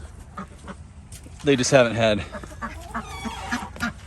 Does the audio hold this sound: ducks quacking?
yes